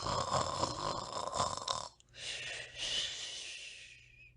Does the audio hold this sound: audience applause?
no